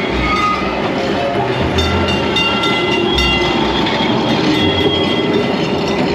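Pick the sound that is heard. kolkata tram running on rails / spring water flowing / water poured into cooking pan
kolkata tram running on rails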